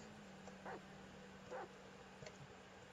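A dog in Grand Theft Auto V gives a few short, faint barks and yips spaced apart over a steady low hum and background game noise.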